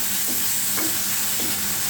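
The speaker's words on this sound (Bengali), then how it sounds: "এবার আমি মাছগুলোকে খুব ভালোভাবে কষিয়ে নিব।" Catfish pieces cook in hot oil for a curry with bitter gourd and potato, making a loud, dense, continuous sizzle and hiss close up, with faint stirring knocks underneath.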